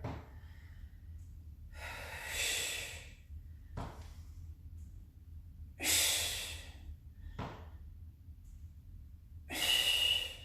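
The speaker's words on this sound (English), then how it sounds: "Big exhale up here" Three loud, breathy exhales spaced a few seconds apart during a Tabata workout, each a close, forceful whoosh of air separated by quieter gaps with soft thuds of movement.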